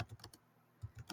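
Keys clatter on a computer keyboard while HTML code is typed, a few quick taps, then a short pause, then another small cluster of close, soft clicks.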